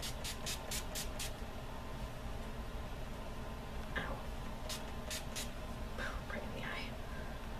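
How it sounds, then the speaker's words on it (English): Makeup setting spray, NYX Dewy Finish, misted onto a face in a few quick hissing bursts at the start, then more short pumps a few seconds later, with faint rustling against a steady hiss. "I'm just going to set everything with my NYX Dewy Finish Setting Spray."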